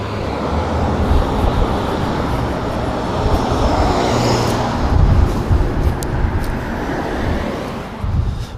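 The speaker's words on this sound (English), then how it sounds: "A lot of cars coming." Road traffic rumbles steadily and loudly, with a broad wash of engine and tire noise that swells slightly as vehicles pass nearby, and no voices.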